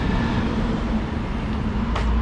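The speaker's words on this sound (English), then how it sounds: "wait for this truck to pass." A truck passing by outdoors, a continuous loud rumble of engine and road noise filling the whole stretch, steady and close with no pauses.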